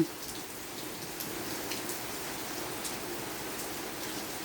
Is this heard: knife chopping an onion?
no